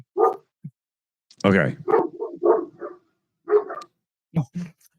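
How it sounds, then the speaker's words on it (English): A dog in a house gives several sharp barks and yips in bursts, loud and close, with a person briefly speaking between them. "is there a dog actually going crazy? In my house, there's a dog."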